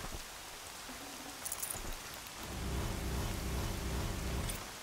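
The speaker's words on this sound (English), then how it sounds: "Air's heavy with rain." Rain in Horizon Zero Dawn, a steady wash of falling drops that grows heavier and fuller halfway through, with no voices.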